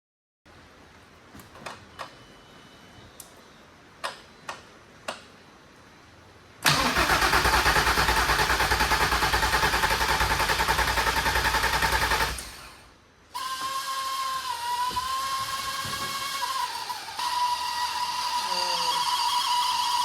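A Nissan R32 engine, freshly hooked to its battery and run without coolant, starts for the first time: a few sharp clicks, then about six seconds of loud cranking, a short pause, and a rough, uneven idle that keeps running.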